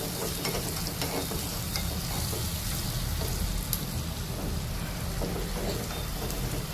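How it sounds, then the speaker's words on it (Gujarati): Garlic frying in a hot pan with chillies for cheese garlic dhokla, giving a steady, close sizzle with light crackle and occasional stirring scrapes throughout. "મરચાં તો આપણે અંદર એડ કર્યા એટલે આ લસણ ચડવી દેવાનું. લસણ હા ચડી ગયો."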